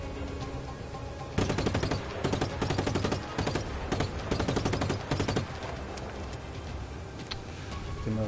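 Rapid automatic gunfire from the video game Just Cause 3 during a fight with paratroopers on a ship: loud, dense bursts that stop and start over a constant background roar, with no talk.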